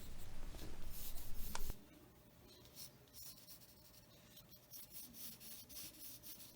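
A graphite pencil drawing a kitten's head on paper, a brief burst of scratchy stroking followed by quieter, intermittent light scribbles, close up and faint.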